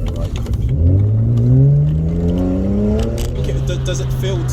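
Tuned BMW E92 335i accelerating hard, its engine note sweeping steadily upward in a loud, sustained rising whine and growl heard from inside the car, with a brief shift near the end.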